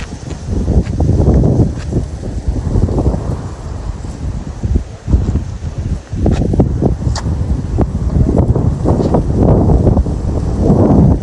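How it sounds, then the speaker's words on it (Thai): Wind rushes and buffets the microphone outdoors beside the Mekong River at the Thai–Lao border, a steady loud low roar with gusty surges and brief lulls, and no talking. "บรยากาศลมดีขนาดเลยเจ้า"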